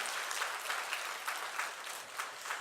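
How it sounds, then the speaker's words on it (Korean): A church congregation claps together in a faint, steady round of applause, the clapping rising and falling in soft waves without any talking. "우리 박수로 크게 축하해 주시길 바랍니다."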